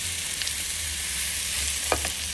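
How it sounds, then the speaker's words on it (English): Pork ribs browning in a frying pan give a steady, continuous sizzle throughout, with a low hum beneath and a couple of brief clinks or stirring sounds near the end. "I think that pork ribs are much better if they've been browned in a frying pan first"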